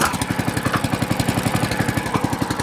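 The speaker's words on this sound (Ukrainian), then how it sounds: "Досить круто завівся двигун" A walk-behind tractor engine, just started, idles up close with a loud, steady, rapid chugging rhythm of evenly spaced pulses and no talk over it.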